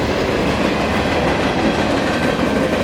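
A CSX freight manifest train rolls past close by, a loud continuous rumble with wheel clatter throughout.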